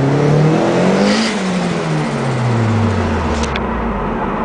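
A turbocharged car engine with a dump valve revs loudly and then drops, its pitch sliding steadily downward with a brief hiss near the end, heard close up.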